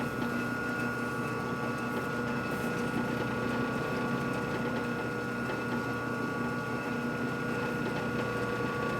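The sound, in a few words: lathe turning slowly and locking up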